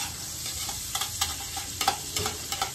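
Margarine sizzles steadily in a hot pot, a constant crackling hiss with scattered stirring scrapes and taps, close by and without talking.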